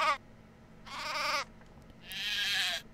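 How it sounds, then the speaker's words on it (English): Bleating from a sheep in the video game Craft The World comes in three separate wavering calls, the last longest, set against a quiet low background hum. "A sheep could be sheared."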